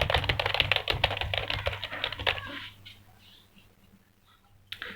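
Typing on a computer keyboard while working in Adobe Illustrator: quick, dense clicking keystrokes up close for about two and a half seconds, then near quiet with a single faint click at the end.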